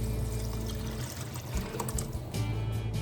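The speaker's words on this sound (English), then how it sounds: "Beef stock going in." Beef stock poured into a pot of beef for a quick stew, a short, close, steady liquid pour and splash lasting a few seconds with no talking.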